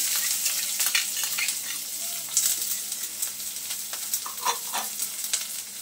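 Chopped onion sautéing in hot oil in a pan, a steady close sizzle with scattered crackles and stirring scrapes throughout, no voices.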